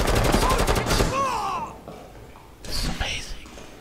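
Gunfire in the Rainbow Six Siege video game, a rapid burst of shots at the start followed by a few scattered bursts later, loud and up close with voices talking over parts of it.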